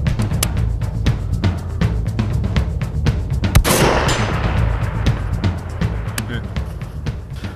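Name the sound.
long-range precision rifle shot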